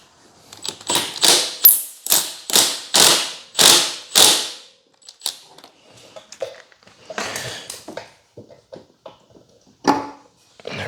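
Ratcheting clicks from a flywheel puller being turned to push the flywheel off the shaft on a Baja scooter engine, a fast run of sharp, loud clicks that slows to scattered softer clicks.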